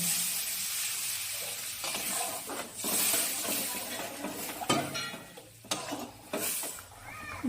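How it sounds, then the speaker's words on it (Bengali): Katla fish kalia gravy simmering in a pan after water is added, a continuous bubbling sizzle with a few sharper spatter bursts and clatters, close and moderately loud, no speech. "ঝোল ভালো করে ফুটে গেছে"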